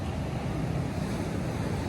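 Steady ocean surf rolls at Ciwidey beach on the south coast, a continuous broad wash of breaking waves mixed with wind buffeting the microphone.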